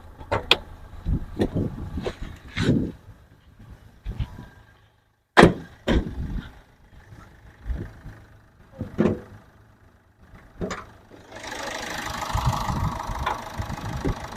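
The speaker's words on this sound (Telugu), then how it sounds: "ఇంజన్ బీటింగ్ కూడా చూసుకోండి, చాలా అంటే చాలా స్మూత్ ఉందండి." A Toyota Etios GD diesel car engine at idle, heard as a steady low rumble broken by intermittent clicks and knocks, with a rising hiss in the last couple of seconds.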